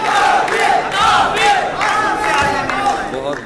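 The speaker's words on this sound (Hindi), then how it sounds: "भरपूर तालियों में तशरीफ लाते हैं जनाब तहसीब हाफी।" A packed audience at a Dubai mushaira erupts in sustained cheering and shouting to welcome a poet to the stage, many voices rising in loud waves over a dense crowd roar.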